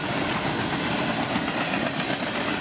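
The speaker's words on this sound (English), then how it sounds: "Kind of nerve-wracking being this close to the damn train." A train rushes past very close on the tracks during a hike, giving a loud, steady roar of rolling wheels and rattling cars that fills the whole stretch without a break.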